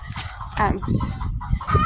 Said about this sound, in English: We've got, I think it's 11 hens and 1 big rooster in there.